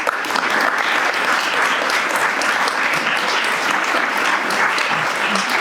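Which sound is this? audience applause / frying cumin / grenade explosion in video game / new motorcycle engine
audience applause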